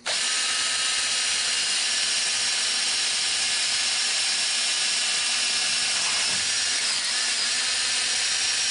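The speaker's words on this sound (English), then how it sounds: "We're going to drill the side of the panel here." A power drill whines loudly and steadily, grinding through a panel without pause, with a brief shift in pitch near the end.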